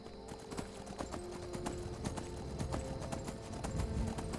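Horse hooves clip-clopping on a long ride in the modded game Skyrim Anniversary Edition, a steady rhythmic trot of clear repeated hoof strikes over a soft ambient game background, moderately quiet.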